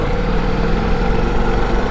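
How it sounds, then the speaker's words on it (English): Ducati Multistrada V4S V4 motorcycle engine running, a dense, steady low growl with a throbbing pulse, close and continuous over a brief stretch. "And the V4 engine just sounds superb."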